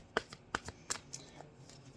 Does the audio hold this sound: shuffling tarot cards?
yes